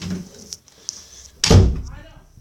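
A door is pushed shut with a loud, close thump and slam about halfway through, after quiet shuffling and faint voices.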